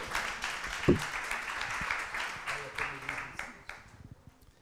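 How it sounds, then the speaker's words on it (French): An audience applauds at a 2017 conference session on borders and identities, a dense wash of many hands clapping at moderate distance that gradually thins and fades toward the end. "Sous vos applaudissements, bien sûr."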